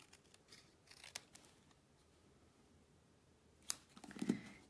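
Scissors snip a short piece off a craft ribbon, a faint crisp cut near the end after a few quiet handling rustles, close and alone.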